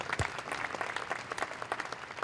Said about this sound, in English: So I think you need to all applaud yourselves for the hard work you do.